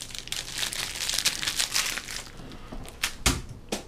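Sticky packing tape peeled from a cardboard box during an unboxing, a continuous crinkly, crackling tear with a few sharper rips near the end, close and fairly loud.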